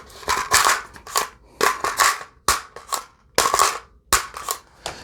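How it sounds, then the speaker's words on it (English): An H&K MR556 rifle is worked by hand as its bolt catch is released, giving a series of sharp, close metallic clacks and snaps in quick irregular bursts with short gaps between them. "I hit the bolt catch."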